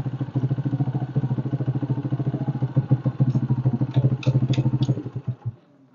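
A motorcycle engine idles close by with a fast, even putter of exhaust pulses and some mechanical clatter. It rises briefly near the end, then cuts off into near silence.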